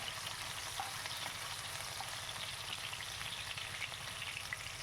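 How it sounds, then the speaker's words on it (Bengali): Potatoes fry in hot oil with whole tempering spices, giving a steady, dense sizzle that holds evenly throughout with no voices. "জাস্ট আমি আলুটাকে এই ফোড়নের সাথে ফ্রাই করছি"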